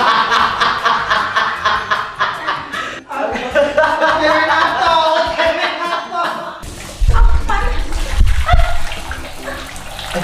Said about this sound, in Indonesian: iya ini saya bilas mbak ya